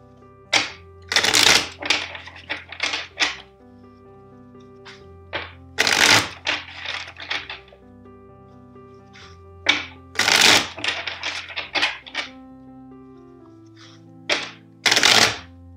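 Several quick bursts of tarot cards being shuffled, each a short crisp flurry, separated by pauses over a steady soft musical backdrop.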